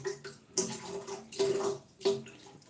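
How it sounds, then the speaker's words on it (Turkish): Shaving brush glass dipped into water during a wet shave with Derby soap, giving splashy sloshing and water movement in a few bursts, close and moderately loud. "Camı tekrar daldırdım suya."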